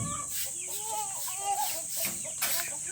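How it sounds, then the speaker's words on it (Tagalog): Backyard chickens of Rhode Island Red, Black Australorp and Light Sussex breeds cluck and chatter close by in a continuous, busy stream, with a high steady hum and faint background voices. "Hinahabol yung mga manok."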